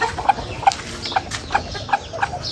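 A hen clucks in short, evenly spaced notes, about six soft clucks in a row against a background of faint outdoor noise.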